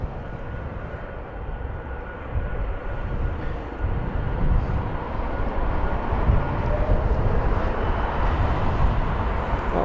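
Jet airliner departing London Heathrow for Abu Dhabi, a broad, steady engine roar that builds slightly and holds, heard from a distance with no voices.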